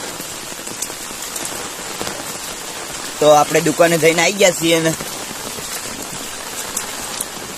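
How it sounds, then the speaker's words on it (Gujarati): Heavy rain pours steadily onto a surface, a dense continuous hiss that runs throughout, with someone speaking over it for a couple of seconds midway. "જબ્બર વરસાદ ચાલુ"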